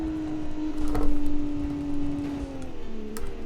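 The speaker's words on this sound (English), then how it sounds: "it just makes a load of whining noise" A sports car's engine whines steadily at high revs, a sustained tonal drone that holds its pitch and then drops slightly toward the end, over a rumbling road and engine bed.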